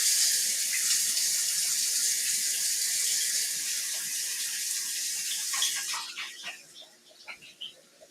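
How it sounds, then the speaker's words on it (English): A kitchen tap runs in a strong steady hiss for several seconds while hands are washed, then shuts off, leaving soft drips and faint splashing. "now's the time we wash our hands"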